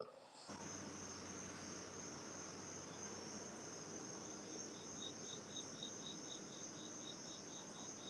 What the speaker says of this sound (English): you might hear the crickets and maybe some other urban noises